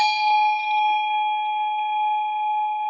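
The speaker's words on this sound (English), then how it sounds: "you can play the bell by tapping it with the wand as well" A large resonant bell struck once with a wooden wand, ringing out with a bright attack and a long, steady sustained tone that fades slowly, heard up close and alone.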